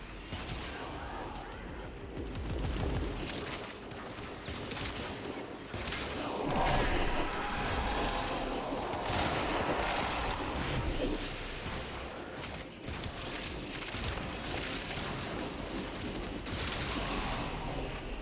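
The Ballistica Incarnon weapon fires repeatedly in Warframe: dense bursts of shots and impact crashes keep up a fairly steady, moderately loud stream of combat sound, mixed with whooshes.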